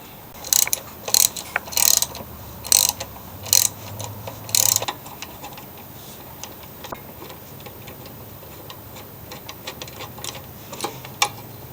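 A ratchet wrench clicks in quick bursts while removing the carburetor bolts on a Toro Super Recycler lawn mower. Several loud, close ratcheting runs come first, then sparse lighter ticks and clinks of the parts being handled.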